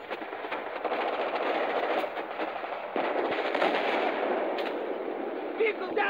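Dense, continuous gunfire roars through an ambush in Battlefield 3, a steady crackling barrage of shots that stays loud throughout, with faint voices mixed in.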